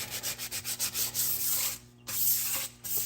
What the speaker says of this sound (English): I'm going to wet sand this